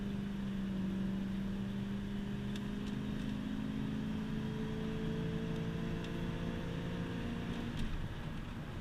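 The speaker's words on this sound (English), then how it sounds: "I love that V8, that deep, big block throttle body sound" A Ford 460 big-block V8 truck engine with an open-element air cleaner gives a deep, steady, close-up drone that holds at a fairly even pitch throughout, with no voices over it.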